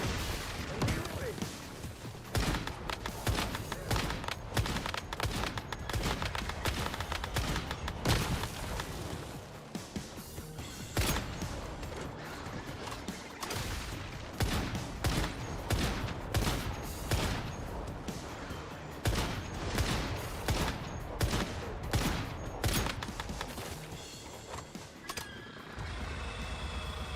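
Dense gunfire and repeated booming shots from an attack in the video game Once Human, rapid bursts running continuously and loudly throughout, with voices speaking underneath.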